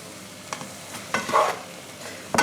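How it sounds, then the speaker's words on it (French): Pad thai rice noodles and other ingredients being mixed with a fork in a hot pan, with scraping strokes and clinks over a soft sizzle and a sharp knock at the end. "N'hésitez pas à prendre une fourchette pour bien mélanger tous les ingrédients ensemble"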